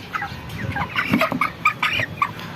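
Broiler chickens in a poultry shed cluck and chatter close by, a busy overlapping flock of short calls with no talk.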